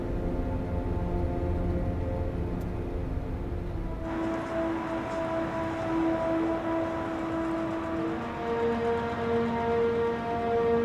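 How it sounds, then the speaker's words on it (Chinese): A police car siren wails steadily behind a moving car, its tone holding at moderate loudness over a low road rumble, with no talk. "李书记，后面有辆警车一直跟着我们。"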